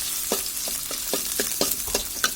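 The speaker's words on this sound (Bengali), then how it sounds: "এখন এর মধ্যে পেঁয়াজ কুচি আর রসুন কুচিগুলো দিয়ে দিচ্ছি।" Chopped onion and garlic sizzle in a hot pan, a steady frying hiss broken by a regular series of soft stirring scrapes, close and fairly loud, with no voices.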